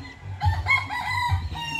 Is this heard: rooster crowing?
yes